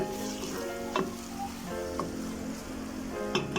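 Tomato paste sizzles steadily as it fries in a pan while chicken spaghetti is being made, a close continuous crackle with a few brief scrapes and stirring clinks, no talking.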